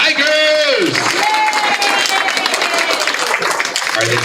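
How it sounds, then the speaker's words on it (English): An audience at a school board meeting applauds a group of students called Tigers, with sustained clapping and some cheering mixed with voices and a tonal sound from a speaker or microphone. "one more round of applause for our third wave of Tigers"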